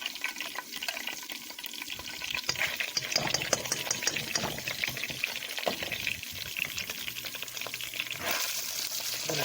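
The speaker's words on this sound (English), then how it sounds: "Gonna fry this up for less than a minute." Garlic and freshly ground pepper fry in a hot pan, giving a steady, close, dense sizzle and crackle that runs unbroken and alone for the whole stretch.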